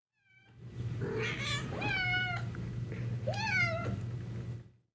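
A cat meows twice, close by, with drawn-out rising and falling cries over a faint low hum and quiet background.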